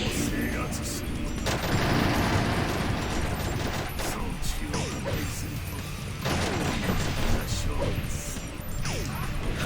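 Rapid bursts of gunfire and crashing impacts in the Shadow the Hedgehog video game, loud and close, repeating in clusters across the stretch amid clattering mechanical game effects.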